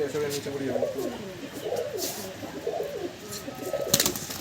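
Soft pigeon coos from tumbler pigeons repeat throughout, a low murmuring mixed with someone talking nearby and some background clatter.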